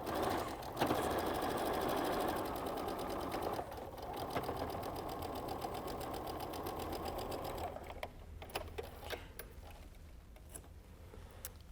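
A sewing machine runs steadily as it stitches pieces of a spinning-spool quilt, a close, continuous whir for several seconds that then slows into a few ticking stitches and clicks near the end.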